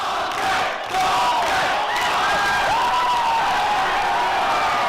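A crowd of protesters at a blockade shouts and jeers continuously in a loud, dense roar, with raised individual voices rising above the din throughout.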